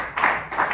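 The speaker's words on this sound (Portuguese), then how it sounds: "tome o vosso assento e aplaude Jesus com as palmas" Two short bursts of hand clapping from a church congregation, close and fairly loud, separated by a brief gap.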